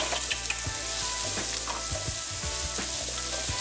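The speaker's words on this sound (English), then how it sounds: "So they're starting to sizzle a little bit." Peppers sizzle and crackle loudly in a hot pan, a constant fry with scattered pops and stirring scrapes, no talking.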